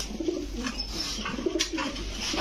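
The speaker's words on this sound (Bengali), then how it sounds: "এই হচ্ছে টোটাল দুই জোড়া কবুতর।" Grizzle pigeons coo in low, throaty rolling notes at a shop selling the birds, several soft calls overlapping at moderate distance amid steady background noise.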